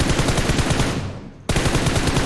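Dense automatic gunfire in PUBG Mobile rattles in rapid continuous bursts, breaking off briefly before a second loud burst resumes abruptly, with no talking.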